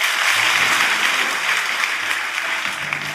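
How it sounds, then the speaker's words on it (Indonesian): A church congregation claps together in a dense, sustained burst of applause that stays loud throughout with only slight fading toward the end. "Tepuk tangan Tuhan Yesus."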